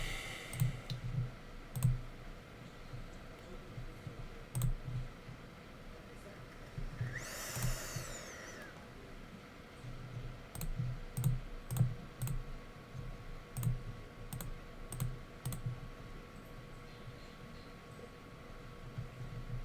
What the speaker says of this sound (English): that typing is really banging on the mic